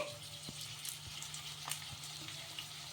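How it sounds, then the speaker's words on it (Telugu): Snacks shallow-frying in a small amount of hot oil over a medium flame give a faint, steady sizzle with a low background hum and occasional soft clicks. "మీడియంగా పెట్టేసుకొని ఇవి ఫ్రై చేసేసుకోవాలి"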